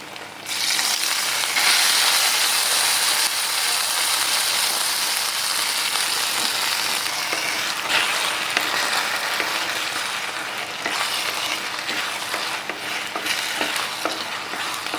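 Semiya kesari with sugar, ghee and fried cashews is stirred in a pan, giving a loud, dense, continuous sizzle and rasp with occasional scraping clicks throughout.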